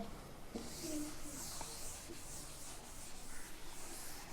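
A board being erased during a maths lesson on linear and quadratic equations, a soft steady rubbing swish lasting a few seconds, close and moderately quiet with no talk over it.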